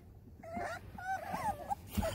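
Puppies at a family dog kennel in Bridgeville, Delaware whimper and whine in thin, rising cries, a few short yips breaking through, fairly faint over a low background hum.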